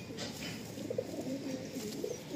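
Madrasi pigeons give soft, low cooing at close range over a steady background hum, with no talking.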